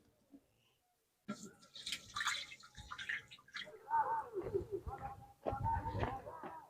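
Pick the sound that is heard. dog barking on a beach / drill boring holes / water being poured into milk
water being poured into milk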